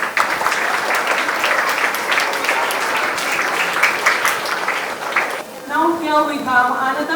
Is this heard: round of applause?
yes